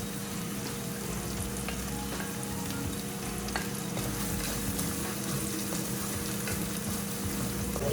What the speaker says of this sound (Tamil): ஒரு 2 minutes வரைக்கும் நல்லா வதக்கிட்டு தென் ஊற்றிக்கலாம்.